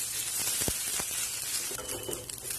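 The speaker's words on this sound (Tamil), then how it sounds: "இஞ்சி பூண்டு விழுதையும் பச்சை வாசனை போக வதக்கி வைக்கலாம்" Ginger garlic paste sizzles steadily in a hot pan, with a few soft scraping stirs cutting through the constant frying hiss.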